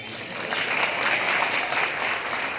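An audience at a youth forum ceremony in India applauds, a steady wash of many hands clapping at once, loud and continuous throughout.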